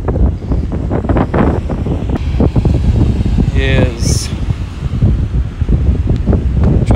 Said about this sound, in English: find a place where the wind's not blowing so hard